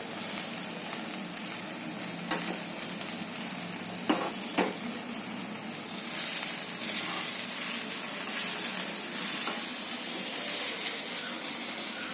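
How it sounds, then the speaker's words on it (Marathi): Fenugreek greens frying in a home pan with a steady soft sizzle, broken by a few light clinks of a spoon stirring against the metal, fairly quiet and close with no talking. "भाजी घातली आता हलवते"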